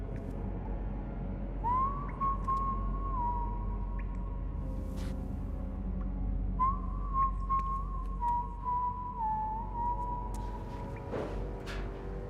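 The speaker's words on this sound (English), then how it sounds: "I'm hearing whistling," A single person whistles a slow, simple tune in two long phrases, with quiet room noise and a few soft knocks in between.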